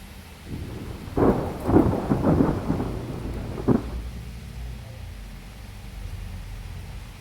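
Heavy monsoon rain hisses steadily while thunder rumbles through in bursts during the first few seconds, then the downpour continues alone at an even level.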